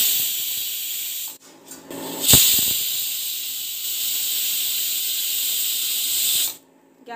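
A pressure cooker releases steam through its whistle while cooking, a loud, sustained hiss that cuts out briefly, surges with a sharp burst, then continues steadily before stopping abruptly.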